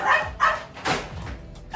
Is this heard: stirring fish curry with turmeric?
no